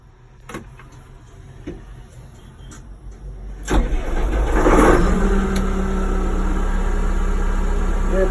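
A forklift runs its auxiliary hydraulics to move the carriage: a low engine rumble with faint clicks rises sharply partway through into a louder, sustained revving drone with a hydraulic whine, heard close with no talking.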